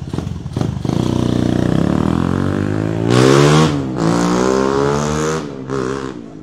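A Suzuki Raider 150 motorcycle fitted with a Koso KSR Evo 30mm big carburetor revs hard on a road test, its engine climbing through loud, close, rising bursts with brief dips between throttle blips.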